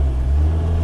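A lowered car's engine holds a loud, close, steady low drone as the driver adds throttle on an off-road track, with no voices.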